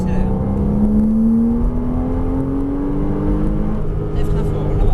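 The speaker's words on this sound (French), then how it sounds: "Tu peux élargir à gauche en accélérant." A Porsche Cayman S with a 295 hp engine accelerates on a track, its engine note rising steadily and loud from close by over a continuous rumble.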